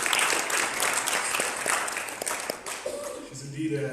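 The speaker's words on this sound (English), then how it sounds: "Ladies and gentlemen, a big round of applause to Miss Dolly Dow." Applause from a convention audience, busy mixed clapping with crowd noise, and a voice speaking over it toward the end.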